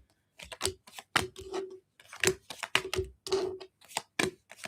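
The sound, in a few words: shuffling tarot cards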